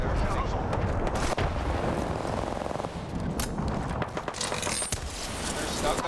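Gunfire and a frag grenade sound in Apex Legends, a dense continuous clatter of shots and booming blasts throughout, with voices talking over it.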